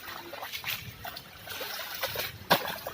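Tubewell water trickling and splashing into a banana field channel, a soft steady flow with small sloshing bursts close by and one sharper splash near the end.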